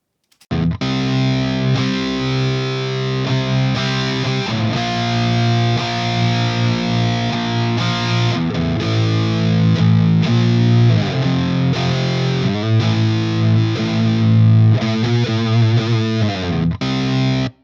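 Heavy distorted electric guitar through an Amplitube amp simulator chugs through a steady riff, dense and full in the low end, played alone without speech.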